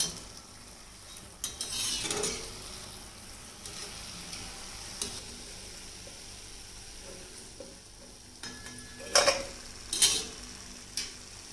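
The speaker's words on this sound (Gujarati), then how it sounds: "ધીરી આંચે તળી છે તે સરસ તળાઈ ગઈ છે" Crispy, spicy wheat-flour puris deep-fry in oil over a low flame with a soft, constant sizzle. A few sharper bursts of crackle and clatter come near the start and again toward the end.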